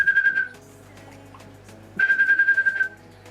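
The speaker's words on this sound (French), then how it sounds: "je siffle avant de leur donner à manger et ils savent que c'est l'heure de manger" A person whistles a steady high note twice, each lasting about half a second to a second, with warbling tremolo, as a feeding-time signal for pet killifish in an aquarium; a low hum runs underneath.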